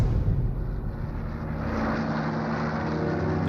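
Hawker Typhoon fighter aircraft on an attack run in a wartime documentary effect: a loud, steady engine roar that holds for several seconds without voices.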